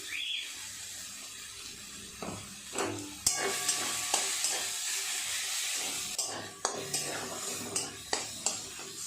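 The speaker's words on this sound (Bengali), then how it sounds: "আর একটু নেড়ে ছেড়ে ভাজা করে নেব।" Taro leaves stir-fried in a pan for a prawn dish, a low sizzle under repeated scraping and clinking of a spatula against the metal, strokes coming in an uneven rhythm, close and moderately quiet.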